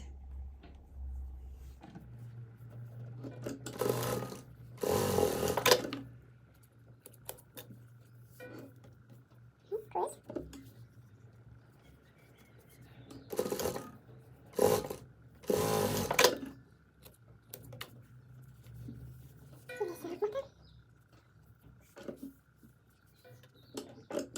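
A sewing machine stitches quilt pieces in several short bursts of steady whirring, separated by quiet pauses with small handling sounds.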